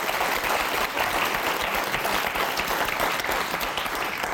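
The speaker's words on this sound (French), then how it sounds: "Et on applaudit" A TV game show studio audience on Motus breaks into sustained applause, a thick, even roar of many hands clapping continuously at full strength throughout.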